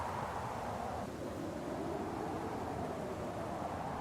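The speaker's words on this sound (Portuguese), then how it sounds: "o vento sopra através dos arbustos espinhosos baixos, trazendo consigo poeira e sons caóticos" Wind blows steadily through low thorny bushes in the red Kalahari, a continuous broadband rush with no gaps, carrying dust along and holding an even, moderately loud level throughout.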